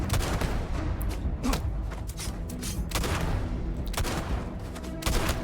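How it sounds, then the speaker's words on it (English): The player's gun fires in the Starfield video game, a rapid string of sharp shots and booming impacts in clustered bursts, loud and close. "Oh, I shot her."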